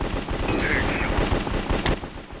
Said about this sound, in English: the other person shoot me with a stupid pistol in the face